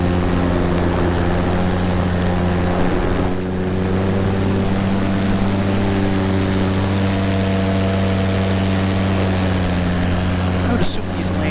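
An ultralight trike aircraft doing a touch and go, its steady engine and propeller drone holding loud and continuous throughout with little change in pitch.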